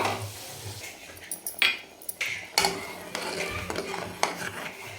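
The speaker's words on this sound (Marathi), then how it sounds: "आपण याच्यामध्ये आता डाळ टाकून घेऊ" Toor dal goes into a pot of boiling water in a home kitchen, with scattered clinks and clatter against the metal pot over a low bubbling, steamy hiss, close and moderately loud.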